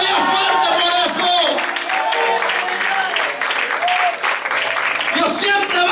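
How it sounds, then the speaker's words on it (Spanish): Church congregation applauding in a Spanish-language service, broadband clapping and crowd noise mixed with a preacher's loud amplified voice speaking over it almost continuously. "dándole un aplauso a Dios fuerte por eso"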